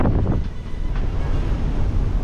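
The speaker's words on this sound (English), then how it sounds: "the wind has increased to more than 20 knots within a couple of minutes" Strong wind at sea buffeting the microphone aboard a sailboat, a loud, continuous roar with rough low rumble and a faint wash of waves, no talk.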